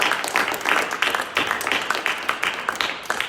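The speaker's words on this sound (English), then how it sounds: "clap it up again" Ceremony audience at a STEM academy men's excellence event clapping and applauding, a dense continuous patter of many hands at steady loudness throughout.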